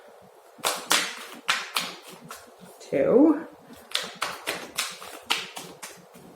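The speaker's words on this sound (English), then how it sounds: "Give it 3 more shuffles." A deck of cards is shuffled during an Aries astrology card reading, in a series of sharp, slapping bursts, one after another, close by, with a single brief spoken word partway through.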